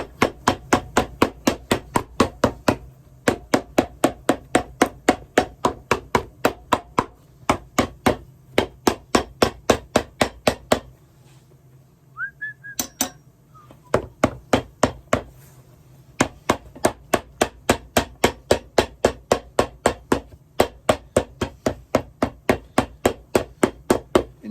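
Steady rhythmic hammer blows, dozens of sharp loud strikes in quick even runs, broken by a few brief pauses with quiet shuffling, no talking.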